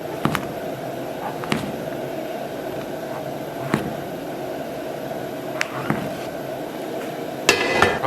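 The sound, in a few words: knife slicing king oyster mushrooms into small pieces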